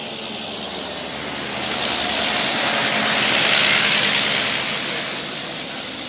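A Blériot monoplane's engine drones through a commemorative flight at IENA, the buzzing roar swelling as the aircraft passes nearest midway, then slowly fading.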